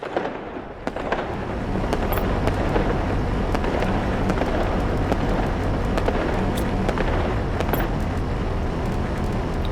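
Fireworks in the survival video game The Planet Crafter, a loud, dense, continuous wash of crackling bursts and sharp pops that runs steadily for the whole stretch with no talk.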